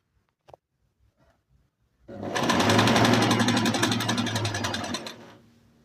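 A Singer Inspiration sewing machine runs a triple straight stitch in one loud, steady burst of rapid mechanical whirring and needle clatter lasting about three seconds, preceded by a few faint handling clicks and followed by quiet.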